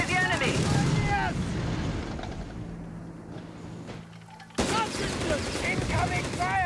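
Gunfire in the Company of Heroes 3 war strategy game, a loud burst of shots and rumbling explosions with a shouting game voice, easing into a quieter stretch before the battle noise returns abruptly.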